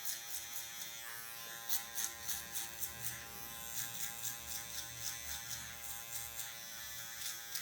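An electric hair clipper buzzes steadily while trimming afro hair during a mid fade haircut, a close, continuous whine with small rhythmic pulses as the blade moves through the hair.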